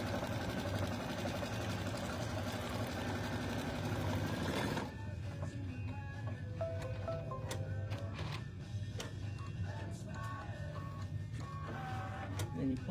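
A sewing machine stitches around the edges of fabric with a steady, close mechanical hum and rapid needle rhythm, then cuts out abruptly midway, leaving quieter handling clicks and faint room noise.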